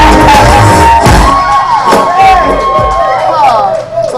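A youth summit audience cheers, whoops and shouts loudly and continuously, with a voice carrying over the crowd noise.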